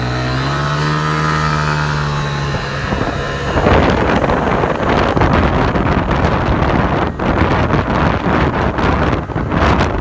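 A Honda SR50/LX50S 4T scooter fitted with a Malossi big bore kit and Malossi cam, riding at top speed with a loud, steady engine drone. Heavy wind buffeting soon swamps the engine tone.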